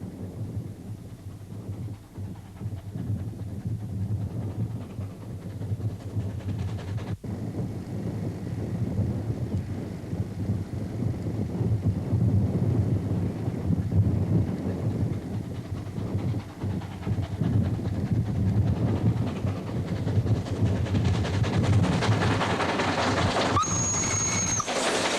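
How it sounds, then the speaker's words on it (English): A steady, heavy mechanical roar with rumbling low end continues throughout as a coal-fired steam locomotive with automatic stoker labors hard up a grade in Poland in the mid-1980s, with wind buffeting the microphone. "Both automatic stoker and fireman are working hard to maintain a full head of steam"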